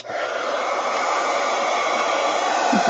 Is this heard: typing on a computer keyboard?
no